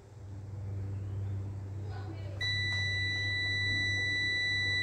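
A multimeter's continuity beep sounds while a solar panel wire is tested: a sudden, steady high-pitched tone starts partway through and holds over a constant low electrical hum.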